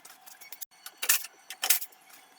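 Several short metallic clicks and ratcheting bursts come from bolts being released from the fender of a 2011-2015 Chevy Volt, close and sharp in quick irregular clusters.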